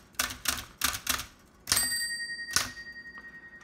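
A 1900 Densmore 4 typewriter typed fast: a quick run of sharp, close key strikes followed by two bright bell rings that hang and fade, played alone in a quiet room.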